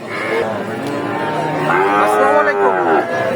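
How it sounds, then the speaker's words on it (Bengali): Cattle, including improved-breed heifers, at an open livestock market low repeatedly and loudly, long drawn-out moos overlapping one another from nearby animals over a steady crowd murmur. "এই হাটটিতে অসংখ্য পরিমাণ উন্নত জাতের বকনা গরুগুলো পাওয়া যায়"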